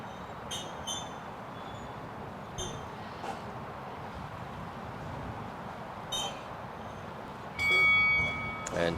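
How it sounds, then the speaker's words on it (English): A bell rings out at an FEI 5* show jumping arena as a brief, clear bright tone near the end, preceded by a few faint metallic clinks over steady arena ambience and an announcer's voice. "The bell rings."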